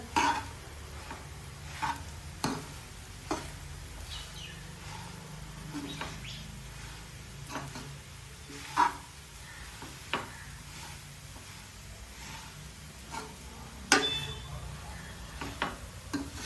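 Stale roti roasting and browning in a hot pan, with soft scraping and stirring taps repeating every second or two over a faint steady sizzle, close and quiet, with light bird chirps in the background.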